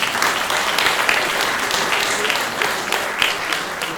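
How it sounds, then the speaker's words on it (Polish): Audience applause fills a conference hall at a Polish medical software users' awards ceremony, a steady dense wash of clapping lasting the whole stretch at fairly close range, with no talk over it. "proszę o profesjonalne brawa teraz"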